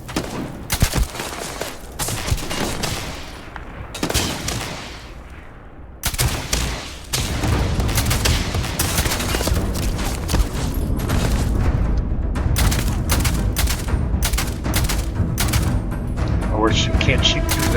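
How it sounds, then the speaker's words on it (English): Rapid bursts of gunfire from the video game Starfield, loud and close, firing in dense volleys with brief gaps between, with someone speaking at points between the shots. "I keep shooting."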